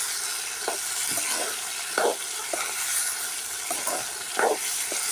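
Chillies sautéing in a tamarind curry base for a drumstick puli kuzhambu, a faint steady sizzle and hiss broken by a few soft stirring clicks, no talk.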